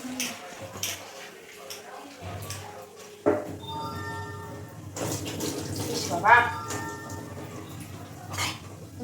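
Freshwater snails (gugli) being rinsed in a bowl of water, with splashing and sloshing and a few clinks against the bowl, under intermittent household talk.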